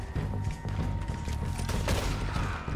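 Gunfire in Red Dead Redemption 2, a dense rattling fusillade of close shots and booms under rumbling game ambience, with no talk.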